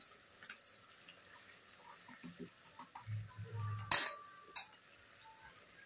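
A spoon works through mutton curry in a pot, giving a few faint, scattered scrapes and light metallic clinks, with one sharper clink near the middle, in an otherwise quiet kitchen.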